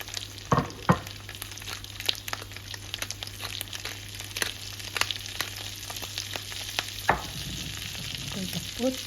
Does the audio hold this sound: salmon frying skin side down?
yes